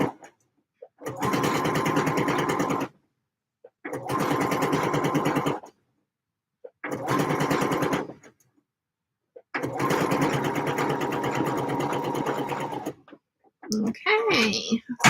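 A sewing machine sews bias binding onto seams in four long, loud bursts separated by short silences, with a brief voice at the very end.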